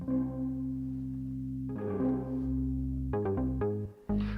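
A sustained synth tone with a long, washy reverb tail, followed by a few short stabbed notes that ring out and blur together.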